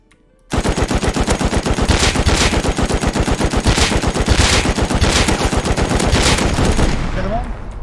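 Rapid automatic gunfire in the survival game Rust, a loud sustained burst of fast repeated shots starting abruptly and running continuously to the end, during a fight against a full enemy team.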